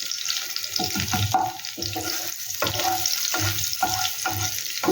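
Dry red chillies frying in hot oil in a pan while a dish of jackfruit curry is cooked: steady crackling sizzle with repeated bubbling pulses, close and moderately loud.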